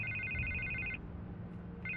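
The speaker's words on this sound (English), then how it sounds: "I can't get the phone to stop ringing." A telephone rings in Batman: The Telltale Series, two short repeated electronic bursts separated by a pause, clear and fairly close with no voices over it.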